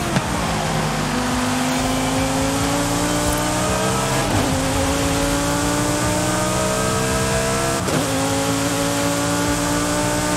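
A 2020 Lamborghini Huracán STO engine in the Forza Horizon racing game revs up steadily through the gears, with rising tones broken by two quick shift dips, loud and continuous with no talk.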